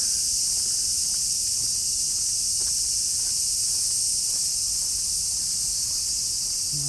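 Cicadas drone in a loud, continuous high-pitched buzz on a rainy day in Tokyo, with soft rainfall and faint footsteps beneath.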